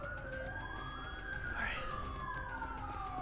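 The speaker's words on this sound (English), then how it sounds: "Yeah, I hear sirens." Wailing police sirens in a video game sweep up and down, several overlapping, with a rising and falling pitch, fairly steady and moderately loud against a low background rumble.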